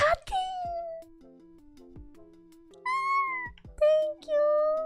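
Electronic meows from a cat in a video game, several drawn-out tonal calls repeating over a few seconds against a quiet backing with a faint stepped background tune.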